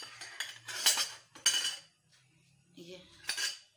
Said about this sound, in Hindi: ये इसको हम मिक्स करेंगे इस तरह से, साथ साथ हम हल्दी डालेंगे।